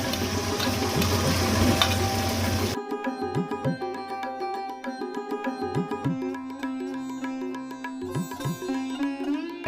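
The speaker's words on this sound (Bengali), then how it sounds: "এবার আমি ডিমটা গুঁড়ি করে ভেজে নেব।" Egg is scrambled and fried in a pan. A dense sizzle opens the scene, then gives way to clattering stirs and scraping against the pan, with bright metallic ringing tones throughout.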